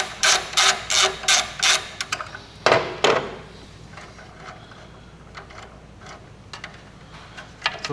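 A ratchet clicks in short rapid bursts while loosening the bolts of a stock turbo heat shield, followed by a few sharper metallic knocks and then scattered faint clicks, close and with no talking.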